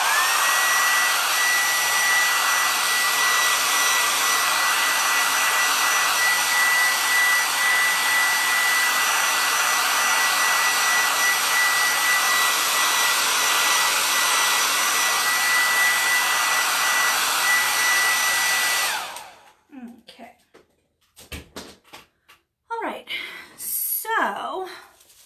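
A hair dryer blows loudly and steadily for about nineteen seconds, drying freshly painted chalkboard paint, then cuts off, followed by scattered handling noises.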